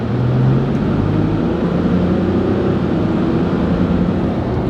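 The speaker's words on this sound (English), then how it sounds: "I barely tap it and the truck is already ready to go" A 2020 Ram 1500 pickup truck engine fitted with a WindBooster throttle controller drones steadily close by, its pitch rising briefly at the start as it revs, then settling into a constant rumble.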